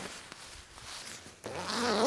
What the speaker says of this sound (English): There's also a zipper on the inside that you can use when you're inside the bag.